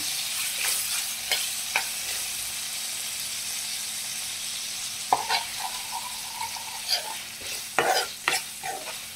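Ginger garlic paste sizzles steadily in a hot pan for a mushroom masala, with a constant hiss broken by several sharp scraping and tapping strokes of a spoon as it is stirred, growing busier toward the end.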